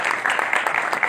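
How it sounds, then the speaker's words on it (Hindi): An audience gives applause after a teen taal tabla solo, dense rapid clapping from many hands, fairly loud and close throughout the short stretch. "और भाई नसीम के लिए भी जोरदार तालियां बजा दें।"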